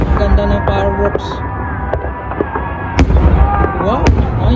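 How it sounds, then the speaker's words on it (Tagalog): Fireworks bursting over Greenland, a steady run of loud booms and sharp cracks with a few whistling trails, close and continuous, while excited onlookers talk and cheer throughout. "Ganda ng fireworks."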